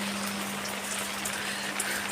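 Steady rain falls, making a dense, even hiss that holds at a constant level throughout, with a faint low hum underneath.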